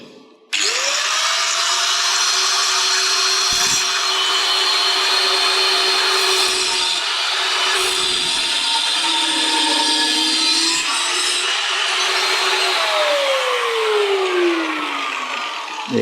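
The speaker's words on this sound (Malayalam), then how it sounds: "ടോട്ടൽ പതിനാല് സെൻറ്റിമീറ്റർ നമുക്ക് ആ ഒരു പോർഷൻ കട്ട് കളയാം" A cutting wheel slices through a portion of a slingshot dart in a long continuous high-pitched whine. It is loud and close, with the pitch dipping under load and sliding down as the wheel spins down at the end.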